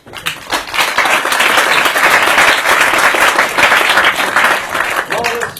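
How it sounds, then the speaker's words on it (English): An audience at a mentalism parlour show breaks into a round of applause for two volunteers, the clapping swelling in quickly and staying loud and full for several seconds, with a voice faintly mixed in. "Everyone will give you a round of applause."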